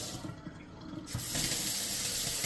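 Water runs steadily from a Delta two-handle kitchen faucet into the sink, a soft trickle that swells after a second into a full, constant rushing stream, close and alone with no talk.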